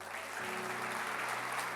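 A short burst of steady clapping from a group, filling the whole moment without voices.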